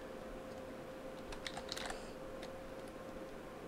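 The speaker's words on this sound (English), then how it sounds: "So let's start typing." Keys on a computer keyboard are tapped in a short, quiet burst near the middle, with a few scattered clicks afterward over a steady background hum.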